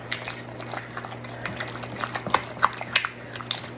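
Cream cheese, ham and green onions for a dip being stirred together in a bowl, with soft wet squelching and scraping clicks repeating unevenly, fairly close, over a steady low hum.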